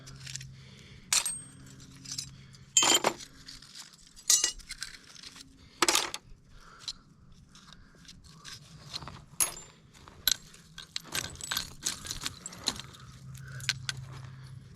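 Large stainless steel nuts and bolts clink and jangle as they are handled and dropped, in irregular bursts of sharp metallic rattles, fairly close, with quiet pauses between.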